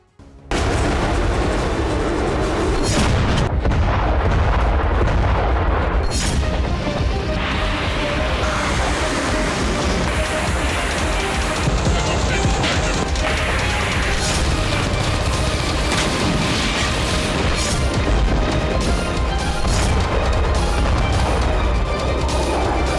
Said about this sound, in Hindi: शॉकवेव बम से दहला दिया